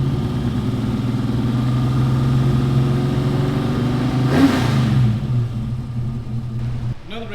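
A 1957 Ford Fairlane V8 fitted with Aces fuel injection revs hard and holds a loud, steady roar up close, rising briefly in pitch before dropping back to idle, with faint voices underneath.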